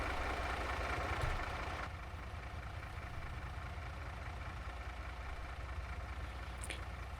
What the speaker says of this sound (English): That's a pretty cool truck.